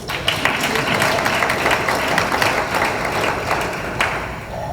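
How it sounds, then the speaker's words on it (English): A community press event audience breaks into dense, steady applause that holds at an even level for several seconds. "That's another applause line."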